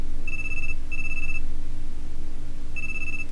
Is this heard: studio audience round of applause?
no